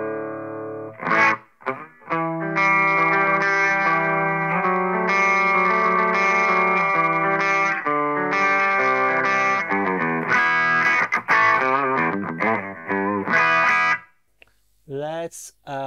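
Electric guitar plays clean through a BOSS Dual Cube LX amp on its US combo setting, a Fender-style voice, sustained chords and picked notes close and steady, with a brief pause near the end.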